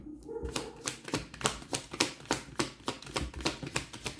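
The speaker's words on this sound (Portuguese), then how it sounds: "Vou tirar o baralhinho da Maria Padilha." Rapid crisp flicks and snaps of a small card deck being handled during a card reading, a steady run of sharp clicks about every third of a second, close and fairly loud with no voices.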